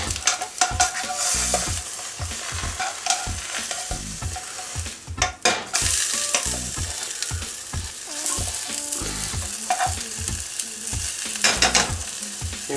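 Mushroom caps frying in a pan on an outdoor foraging trip, a constant close sizzle broken by repeated scraping and stirring strokes and clinks of a utensil against the pan.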